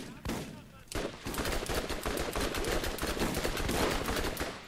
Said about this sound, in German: dann schieße ich halt auf die Leute hier